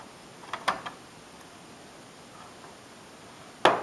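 Plastic shell of a Neo Geo MVS game cartridge for Neo Drift Out, its screws already removed, being pried open: a few close clicks and rattles early on, a quiet stretch, then one sharp snap near the end.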